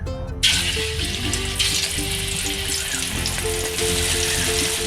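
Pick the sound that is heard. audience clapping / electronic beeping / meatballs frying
meatballs frying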